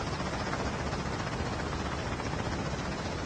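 Helicopter rotor noise in Call of Duty Mobile, a dense, continuous whirring roar holding steady throughout, with no talking.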